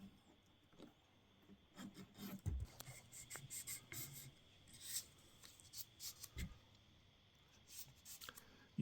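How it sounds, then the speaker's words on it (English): Filing a rough paper-and-glue arrow nock with a small file, giving faint, irregular rasping strokes close by, broken by a few soft knocks and taps. "I'll file it off some more"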